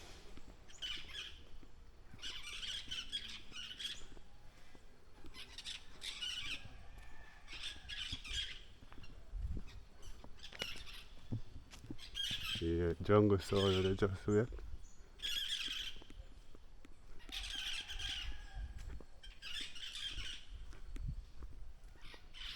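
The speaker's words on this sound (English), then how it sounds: "this is a parrot sanctuary guys" At a Jamaican parrot sanctuary, parrots squawk again and again from the trees in loud, harsh bursts that keep repeating. Someone talks over them, with outdoor noise in the background.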